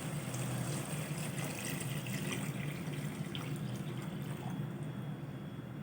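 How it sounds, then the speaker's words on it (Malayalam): Two glasses of water are poured into a pot of prawn rava upma, a soft continuous splash and trickle of liquid that runs steadily for several seconds without talk. "ഞാൻ ഉപ്പുമാവ് എടുത്ത അതേ ഗ്ലാസ്സിൽ തന്നെ 2 ഗ്ലാസ് വെള്ളം അളന്നെടുത്താണിത്. അപ്പോൾ അത് ഞാൻ ഇതിലേക്ക് ഒഴിച്ചു കൊടുക്കുകയാണ്."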